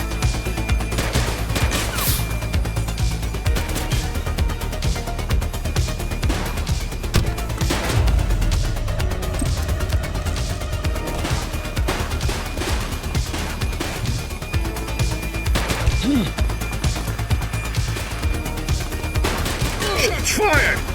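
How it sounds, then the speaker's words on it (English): Bursts of gunfire crackle through a police shootout in the video game Precinct, repeated volleys of loud shots and crashes, with shouted voices over the action. "Shots fired!"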